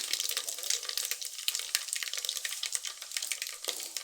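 Mustard seeds, fenugreek, cumin and cinnamon crackle and sizzle in hot oil for a chicken curry, a steady close frying hiss with sharp popping spatters throughout and no talk.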